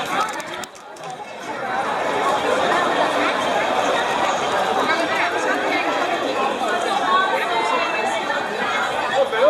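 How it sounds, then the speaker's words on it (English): A dense crowd of people in a busy Macau street near the Sao Paulo ruins and Senado Square, steady overlapping chatter and footsteps filling the air, loud and continuous. "Okay, so we're going to try to navigate this crowd."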